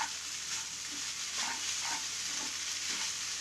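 Red aval vegetable upma is stirred in a pan, with soft, repeated scraping strokes and a faint sizzle beneath, quiet and close with no talking.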